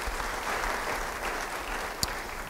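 A church congregation claps together during a sermon, producing a steady wash of applause at moderate distance that holds evenly throughout, with one sharper clap standing out near the end.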